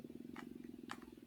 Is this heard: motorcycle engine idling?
no